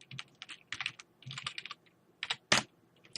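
Someone types on a computer keyboard in irregular bursts of quick clicking keystrokes, close and clear, with short pauses between runs and one sharper key strike near the end.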